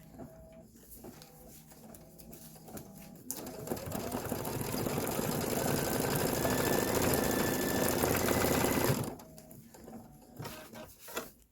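A sewing machine stitches a Halloween bench pillow in one long continuous run of several seconds, a close, even, rapid mechanical whir that ramps up, holds steady, and then stops.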